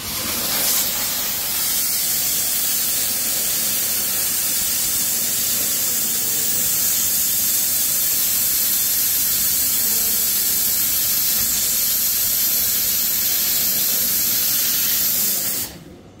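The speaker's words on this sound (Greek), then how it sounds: "Και ερχόμαστε λοιπόν με τον ατμό" An espresso machine's steam wand blasts steam during deep cleaning of the coffee machine group head, a loud, continuous, steady hiss lasting about fifteen seconds before cutting off abruptly.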